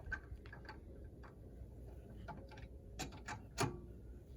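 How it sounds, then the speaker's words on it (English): A wrench loosening tight car wheel lug nuts, giving quiet intermittent ratcheting clicks and metallic ticks, with a sharper clank near the end, up close against a low background hum. "Now you're going to use your wrench to loosen up the lug nuts."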